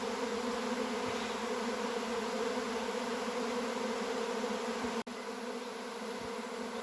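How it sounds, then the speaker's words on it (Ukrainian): A honey bee swarm drones in a dense, continuous buzz, steady and fairly loud throughout, with many bees humming together outdoors and no voices. "Але це круто, коли отак рій вийшов і дивишся на нього."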